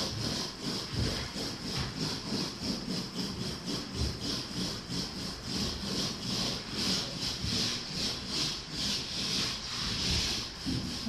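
A paint roller spreads primer across drywall in a steady, rhythmic rolling rasp, each stroke swelling and fading in close, even repetition with no talking.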